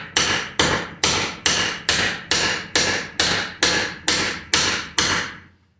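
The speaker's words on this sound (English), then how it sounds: "Ball peen works nice to clean this edge up" A ball peen hammer strikes the edge of sheet metal for an under-bed notch on a 1996 Ford Ranger minitruck: eleven sharp, evenly spaced ringing blows, loud and close, with no voices.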